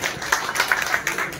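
Applause at a community Ganesh puja gathering welcoming the police superintendent, a steady patter of many hands clapping with rhythmic accents, moderately loud throughout.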